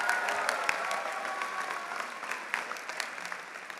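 Steady applause from a commencement audience filling a large hall, dense and continuous with a few louder individual claps standing out, no speech over it.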